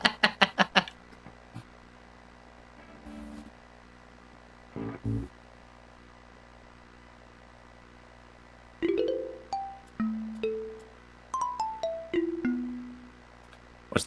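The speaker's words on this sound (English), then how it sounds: "So we have one option for xylophone, and it sounds like this." The default xylophone instrument in music software plays a short run of bright struck notes stepping across pitches, preceded by a few clicks and thumps, fairly quiet and with no talking.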